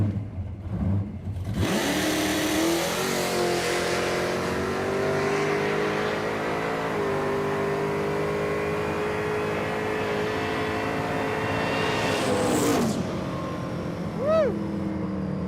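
Pontiac Firebird drag car launching hard down a drag strip: a loud, sustained engine roar climbs through the gears for about ten seconds, then cuts off, leaving a fainter whine as the car coasts.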